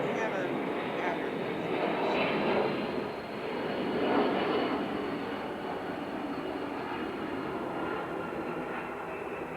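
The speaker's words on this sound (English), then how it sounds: "I think we got another jet aircraft. Right over the side." A jet aircraft passes overhead, a loud, broad rushing roar that swells and fades twice and then lingers steadily.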